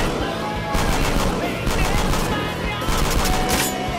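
Four-barrel gun firing in Garry's Mod at a military facility, loud sustained bursts of rapid automatic fire with brief pauses between volleys.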